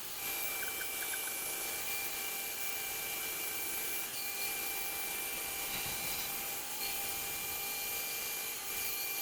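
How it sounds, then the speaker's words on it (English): A bandsaw runs steadily while cutting two stacked wooden pieces for a round bird house, giving a continuous, dense whirring hiss throughout without pause. "cut it out on my bandsaw with cutting both pieces out at the same time"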